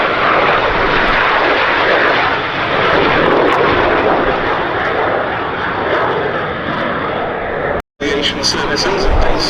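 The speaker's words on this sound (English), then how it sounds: "Now in come the 2 aircraft towards us for a break." Two BAC Strikemaster jets pass at an air show, a loud broad roaring rush that swells and holds, cut briefly near the end, with a commentator's voice over it.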